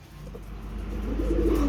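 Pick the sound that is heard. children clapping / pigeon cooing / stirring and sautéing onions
pigeon cooing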